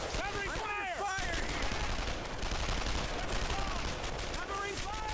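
Sustained covering gunfire from World War II squad combat in Brothers in Arms: Earned in Blood, dense bursts of rifle and machine-gun fire continuing loudly throughout, with shouted voices briefly heard near the start.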